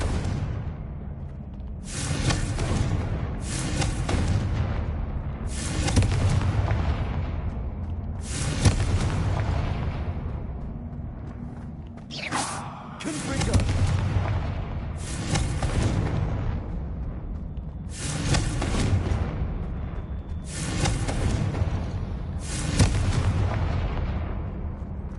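Confringo blasting spells in the video game Hogwarts Legacy set off a series of about nine loud, booming explosions at a steady rhythm, each a sharp burst with a short decay, with no talking.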